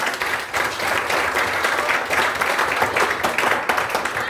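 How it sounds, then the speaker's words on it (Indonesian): A classroom full of people applauds, steady dense clapping that continues for several seconds at close range. "Berikan tepuk tangan semua."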